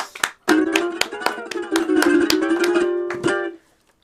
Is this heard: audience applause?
yes